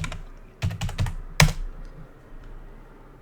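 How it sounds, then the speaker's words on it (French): Keys on a computer keyboard pressed in a short burst of about four quick, close taps, then a single louder stroke, then quiet; a password being typed, with no one talking. "Je vais essayer de le taper de différentes manières, le mot de passe"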